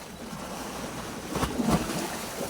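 Ocean waves at Kalangahan beach in Lugait, Misamis Oriental, a continuous rushing wash of surf with wind buffeting the microphone and a couple of louder breaking swells, no voices.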